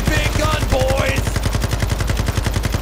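Heavy machine gun in Call of Duty MW2 campaign fires a fast, unbroken stream of loud, evenly spaced shots, close and powerful, with a brief voice over the start.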